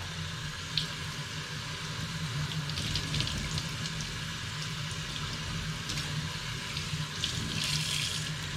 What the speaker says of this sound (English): I'm going to run water down the middle of it as well.